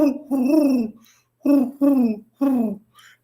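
A man imitates an owl's hoot with his voice, giving four drawn-out, wavering hoots separated by short pauses, close and loud, with a faint breathy sound at the end.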